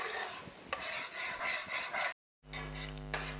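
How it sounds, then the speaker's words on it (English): A spoon scrapes and stirs a thick sugar syrup for sesame til laddu in a pot, a steady rasping rub with a soft sizzle, close by, then a brief cut to a humming background. "keep stirring it properly in between like this"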